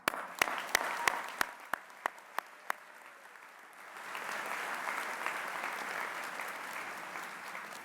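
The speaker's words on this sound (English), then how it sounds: "we applaud all of you." A college commencement ceremony: a few isolated, sharp claps ring out one by one, then a broad wave of crowd applause swells up and holds steady, fairly distant and even.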